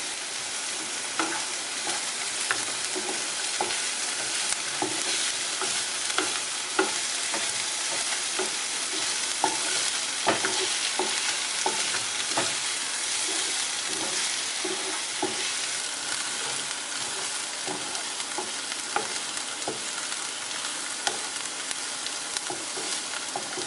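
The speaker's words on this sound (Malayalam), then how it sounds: "ഇഞ്ചി, വെളുത്തുള്ളി, പച്ചമുളക് ചേർക്കാം. നന്നായി വഴറ്റിയെടുക്കാം." Ginger, garlic and green chilli with softened onion sauté in a pan, giving a long, even sizzle punctuated by frequent light spatula taps and scrapes, close and unbroken, no talking.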